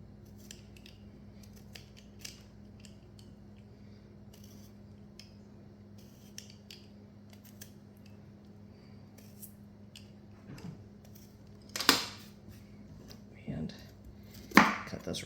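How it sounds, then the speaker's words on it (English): Knife peeling a fresh ginger root, faint scraping and a few sharper cutting snicks on a board near the end, close and quiet against low room hum. "I'm going to just kind of peel the ginger."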